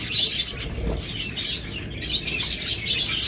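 Budgerigars with their chicks chirp in a steady, busy chatter of high, close tweets, alongside faint fluttering and no talk.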